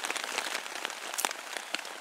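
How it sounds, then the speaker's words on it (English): Heavy rain pours steadily outside a camp hammock during a wet campout, a dense, even hiss of drops with occasional sharper patters, close and continuous with no talking. "it's still pouring rain out there."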